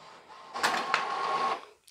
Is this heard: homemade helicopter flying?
no